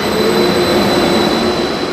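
The Danhai light rail train runs past at close range with a loud, continuous rolling roar and a thin, high steady whine from wheels or motors, with no voices.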